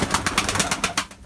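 Pigeons in a loft give soft, repeated cooing calls in a quick rhythm, close by and moderately loud, with rustling between calls and no talk.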